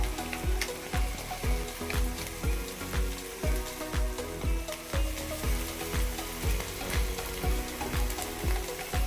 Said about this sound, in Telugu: ఇది కూడా కొంచెం వేగించి దీంట్లో కొంచెం సాల్ట్ పసుపు వేసుకుందాం